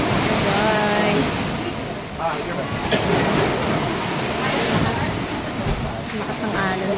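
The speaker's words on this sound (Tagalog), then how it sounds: "Lakas ng alon." Strong ocean waves crash and surge steadily on an island coast, a loud continuous roar of surf filling the whole stretch, with people talking faintly in the background.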